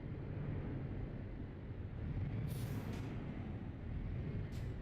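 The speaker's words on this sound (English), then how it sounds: "the ambient sound of the truck engine in the stream" Steady low diesel rumble of an idling tandem truck engine, loud and continuous, with a brief hiss of an air brake release partway through and another short hiss near the end; no voices.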